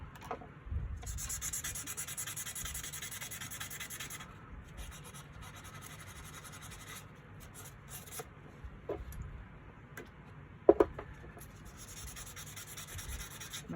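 Sandpaper rubbing back and forth over rusty Schrade pocket knife blades on an MDF workbench, a steady close scratchy scrubbing that runs throughout, with a couple of sharper knocks near the end.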